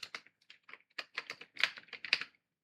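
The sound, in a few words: typing on computer keyboard in Google Sheets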